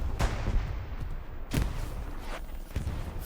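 Gunfire from the World War II shooter Hell Let Loose in an Omaha Beach tournament battle: a few separate heavy shots and booms, widely spaced over constant battlefield rumble, no sustained machine-gun burst.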